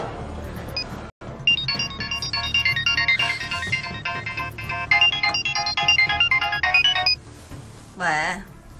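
A phone ringtone plays during an outgoing call in a family drama, a bright repeating electronic melody ringing for several seconds, with a voice speaking over part of it.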